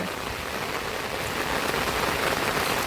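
Steady, dense heavy rain patters on a surface without pause, a continuous close hiss of drops.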